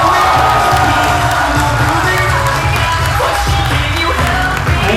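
A convention audience claps and cheers loudly and steadily throughout, a dense, continuous crowd roar with whoops mixed in.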